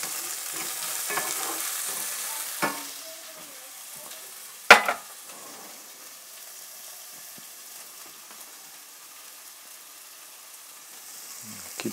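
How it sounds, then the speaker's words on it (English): Chicken stir-fry with orange and cashew sizzles in a hot pan over medium-high heat: a steady close frying hiss, broken by a sharp clank of a utensil and a few scraping stirs, with no talking. "Nice, and let's sizzle."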